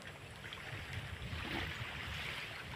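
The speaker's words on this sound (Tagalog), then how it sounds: "Ayan, yung bangka padating." Steady broadband rush of water and a running boat motor as a boat approaches a beach, continuous and fairly loud, with waves washing throughout and no voices.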